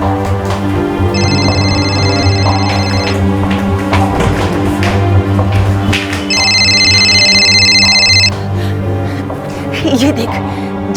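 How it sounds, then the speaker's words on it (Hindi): A mobile phone rings in a bathroom, two bursts of a high electronic ringtone rising above loud, continuous speech and a dense music bed. "माँ, ये फोन किसका बज रहा है? शायद बाथरूम से आवाज आ रही है"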